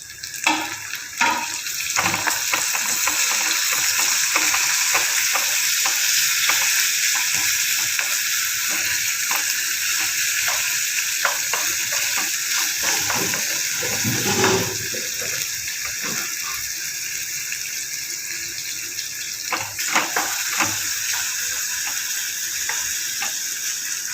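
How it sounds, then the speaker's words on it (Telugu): Chopped tomatoes frying and sizzling in an oiled pan while Rayalaseema-style uggani is being cooked, a steady loud hiss throughout with occasional stirring clatter and a brief surge midway, no talking. "ఇప్పుడు టమోటా వేస్తాను నేను."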